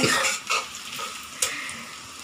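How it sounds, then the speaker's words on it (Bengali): Onions frying in oil in a home kitchen pan, a close, steady sizzle broken by a few sharp scrapes and stirring clatters of a utensil against the pan. "এই যে আসলে তেল দিছি আর পেঁয়াজ ভাজতেছি"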